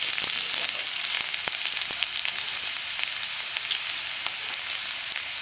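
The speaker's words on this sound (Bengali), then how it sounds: "আদা রসুন দিয়ে এইভাবে কষে নেব" Ginger, garlic and onion fry in a pan with a steady, bright sizzle and a few soft stirring clicks, close and continuous with no talking.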